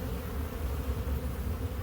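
Honey bees from an opened hive colony drone in a steady, dense buzz, close and continuous throughout with no voices.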